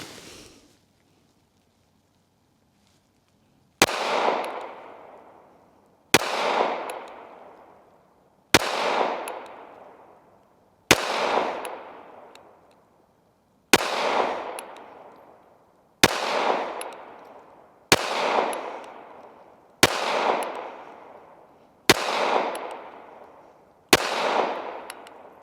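KelTec PR-3AT Defender pistol fired at an outdoor range, eleven loud, sharp shots spaced about two seconds apart, each with a short decaying echo, after a quiet start.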